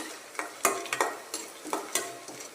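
Split chickpeas (chana dal) fry in a pan while a spoon stirs them, giving rhythmic scraping strokes over a light, close sizzle with no voices.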